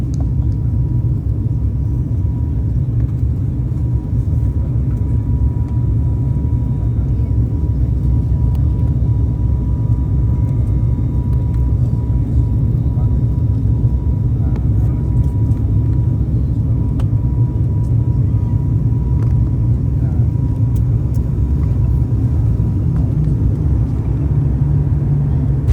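Passenger airplane landing at Chennai Airport heard from inside the cabin, a loud, constant low engine and rolling rumble throughout with faint rattles, no clear distinct bump.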